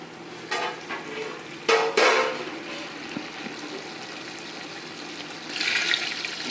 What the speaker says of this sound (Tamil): இப்போ நம்ம 20 டம்ளர் அளவுக்கு தண்ணி இதில் ஆட் பண்ணணும்